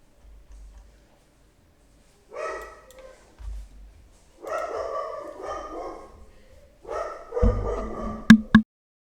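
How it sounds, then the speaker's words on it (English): Several dogs bark and yip in a household, a few sharp barks near the end, with a voice talking intermittently over them. "all my dogs are in the background"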